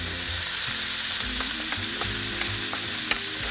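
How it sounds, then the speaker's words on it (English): Beef with vegetables and button mushrooms, dusted with flour, sizzles in a pan while a utensil stirs and scrapes in short repeated strokes, close up and steady, with no one talking. "Just give it a quick stir."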